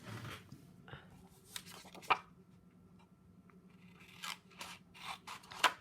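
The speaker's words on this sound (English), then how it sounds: "Let me just take myself some scissors." Scissors snip paper several times in short, crisp cuts close by during ink card-making, with quiet pauses and light rustling between them.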